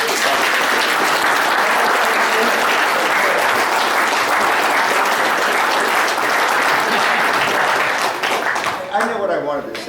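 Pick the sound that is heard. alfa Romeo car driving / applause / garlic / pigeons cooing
applause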